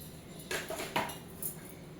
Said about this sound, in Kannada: ಪುಳಿಯೋಗರೆ ಪೌಡ್ರೆಲ್ಲ ಮಿಕ್ಸ್ ಮಾಡೋಣ